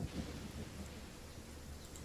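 Low, faint rumble of thunder with soft steady rain in the fantasy game Genshin Impact, a distant roll that swells briefly at the start and then settles, with no voices.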